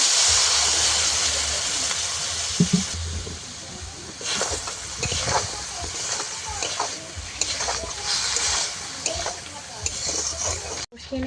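Spatula scraping and stirring in a hot pan of green banana and potato curry, soft sizzling under repeated clinks and strokes, ending with a sharp knock.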